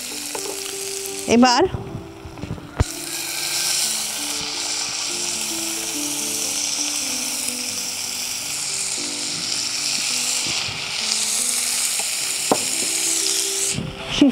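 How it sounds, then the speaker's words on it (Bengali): Chicken frying and being stirred in a pan while making spicy bean bharta; a steady sizzle runs throughout with scraping stir strokes near the start and end, and a voice speaks briefly. "চিকেন দিয়ে ভালো করে কষে নিতে হবে।"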